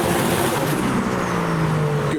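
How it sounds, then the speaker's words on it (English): A Datsun 240Z pulls away at a traffic light, its engine note climbing as it accelerates past, loud and close over a brief burst. "240Z is departing"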